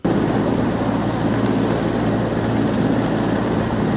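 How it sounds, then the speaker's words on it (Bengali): An army helicopter circles over Mirpur cricket stadium during a security drill, its steady rotor throb and engine roar loud and continuous throughout, with no voices. "কিছুক্ষণ পরই উড়ে এলো হেলিকপ্টার।"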